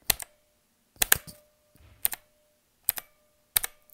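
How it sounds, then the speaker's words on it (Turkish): Arrow keys on a Gamepower Warlock mechanical keyboard with blue switches are pressed one at a time, five separate sharp clicky strokes about a second apart, each followed by a faint ringing spring ping, close and isolated with no talking. "şu yön tuşlarının yay sesini dinleteyim"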